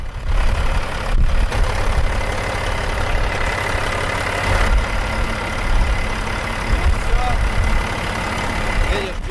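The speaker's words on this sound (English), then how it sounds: "The engine has to be running now, right?" A truck engine idles after oil additive has been poured in, a steady low rumble running throughout with someone talking over it.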